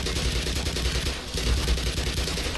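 Enemy gunfire rattles throughout this Black Mesa firefight, dense overlapping bursts with heavy low thumps, loud and unbroken for the whole stretch.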